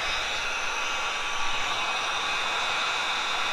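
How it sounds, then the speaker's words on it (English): A heat gun shrinks heat shrink butt splice connectors on compressor wiring during a truck airbag install, giving off a steady, close, unbroken blowing hiss that holds level throughout with no talking. "We're just getting our heat shrink butt splice connectors shrunk up"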